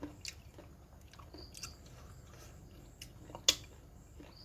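Someone chews and tastes Thai makhuea (pea eggplant) chili paste up close, with soft wet crunching and biting sounds in a quiet room and one sharper click near the end.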